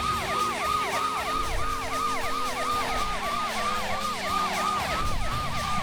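A police car siren in the driving game Driver 2 wails in a steady, rapidly cycling up-and-down pattern throughout, loud and close, over a low engine drone.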